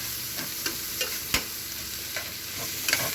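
Eggs and proteins for pad Thai sizzle as they are stir-fried in pans, a continuous frying hiss broken by several sharp scrapes and clanks of a utensil against the pan.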